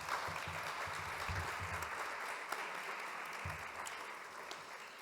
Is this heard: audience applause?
yes